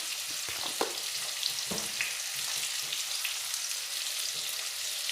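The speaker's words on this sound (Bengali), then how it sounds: "দিয়ে খুব ভালোভাবে আলুগুলো ভেজে নেব" Potatoes, washed several times, frying in hot oil with salt and turmeric, a steady broad sizzle throughout with a few sharp clinks of a spatula against the pan near the start.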